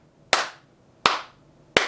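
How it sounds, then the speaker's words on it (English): Three sharp hand claps ring out one after another at an even, unhurried pace, close and loud against near silence. "I clapped."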